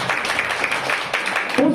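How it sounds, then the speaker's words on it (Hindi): Church congregation applauding a child during a Bible Sunday service, a dense, steady wash of many hands clapping at moderate loudness throughout, with a brief voice-like burst near the end. "ताली बजाए बच्चे के लिए"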